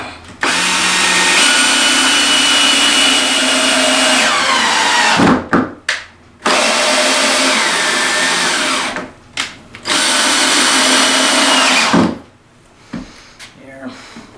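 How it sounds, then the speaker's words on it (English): Power drill driving screws into a wooden board while building an axe and knife throwing target: three loud, sustained whirring bursts of several seconds each, separated by brief pauses, with speech faintly underneath. "Sometimes the board will raise as you're putting these screws in."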